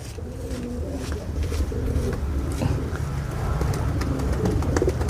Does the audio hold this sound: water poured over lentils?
no